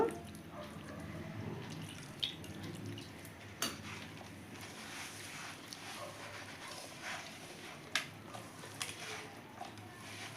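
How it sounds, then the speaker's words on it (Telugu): Faint trickle of water being poured into a bowl, with a few light clinks and taps against a quiet room background. "కొద్దిగా వాటర్ వేస్తున్నాను"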